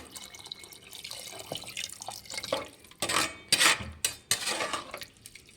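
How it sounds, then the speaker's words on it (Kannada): About one and a half glasses of water splash and pour into a metal pot of masala-fried rice, followed by clinks of utensils and a few drips, close up. "ನಾನು ಒಂದೂವರೆ ಗ್ಲಾಸಷ್ಟು ನೀರು ಹಾಕ್ಕೊಳ್ತಿದ್ದೀನಿ"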